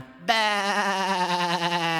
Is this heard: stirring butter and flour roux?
no